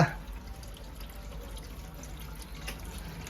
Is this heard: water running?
yes